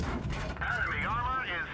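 A tank cannon fires in a video game with a heavy, booming blast that rumbles on, while a person talks over it.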